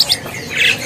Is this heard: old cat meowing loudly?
no